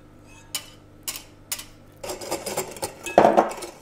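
A whisk clatters against a bowl while eggs and sugar are beaten for an apple cinnamon raisin cake, starting with a few separate taps and then building into quick, continuous metallic beating, close and clear.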